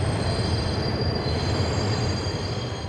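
A subway train runs at night with a loud, continuous rumble of wheels on rails and a thin, high metallic squeal held steadily over it, and no voices.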